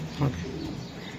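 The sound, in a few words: pigeons cooing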